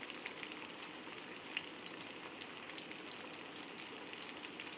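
Chicken pieces fry in orange-infused oil with a steady, even crackle and sizzle, fairly quiet and unbroken, with no voices.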